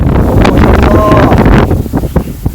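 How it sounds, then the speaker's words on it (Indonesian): Strong gusting wind among trees at night, roaring loudly against the microphone in rushing bursts while someone talks over it. "anginnya tambah kencang"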